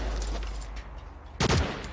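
Automatic weapon fire in the sci-fi first-person shooter game Infinity Ops. One short, sharp burst of rapid shots cuts in over a low background rumble.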